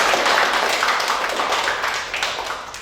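Students or audience in a marketing lecture give a round of clapping, a loud, dense burst that gradually thins out toward the end.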